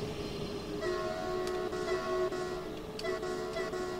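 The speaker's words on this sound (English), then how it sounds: "That's the horn." The horn of a train in Train Sim World 2 sounds as two sustained tones, with a short pause between them, over the steady rumble of the moving train.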